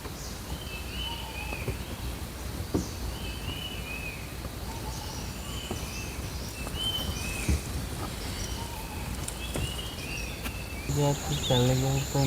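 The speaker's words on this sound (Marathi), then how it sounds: "मस्त वेगवेगळ्या पक्ष्यांचा आवाज येतो आहे आपल्याला" Kanha Tiger Reserve forest near the Kisli gate, with several birds giving repeated whistled and chirping calls at mid-distance over a constant insect buzz, and a louder burst of calls close by near the end.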